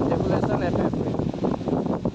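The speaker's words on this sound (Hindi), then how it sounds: "अभी बहुत तेज़ हवा चल रहा है जो आप लोग सुन सकते हो" Strong outdoor wind buffeting the microphone, a continuous loud low rumble throughout with no gaps.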